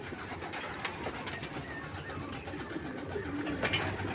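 Racing pigeons arrive home at the loft after a 141 km race from Caranglan during a typhoon, with soft cooing and faint wing flaps over steady outdoor ambience.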